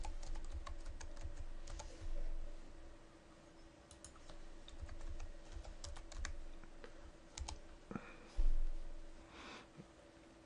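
Typing on a computer keyboard while entering a new username in a WordPress admin profile, heard as scattered soft clicks and key taps at a low, steady level over faint hum, with a few louder bursts.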